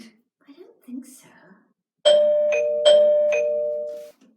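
A doorbell chimes in a two-note ding-dong, twice in quick succession, loud and close, ringing out in a quiet room after a few soft murmured sounds.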